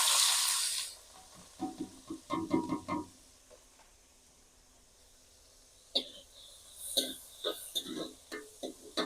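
Onions frying in oil in a home kitchen pan, giving a loud sizzling hiss at the start, then intermittent crackles and stirring scrapes with a quiet stretch in the middle before the sizzle returns.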